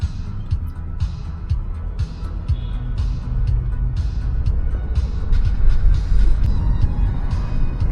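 A Kia K5 taxi driving through a city in the evening, with a steady low engine and road rumble heard from inside the cabin, continuous and fairly loud, with small clicks and rattles over it.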